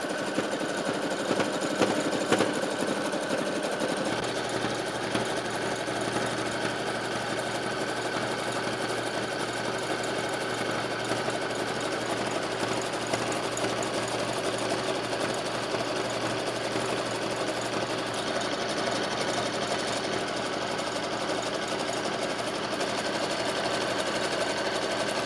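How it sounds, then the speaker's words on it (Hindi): An automatic sewing machine stitches a decorative design onto the cuffs of a belted salwar, a steady fast mechanical whir with a constant low hum running unbroken and moderately loud throughout. "ऐसी ऑटोमेटिक मशीन है तो आप डिज़ाइन डाल सकते हैं।"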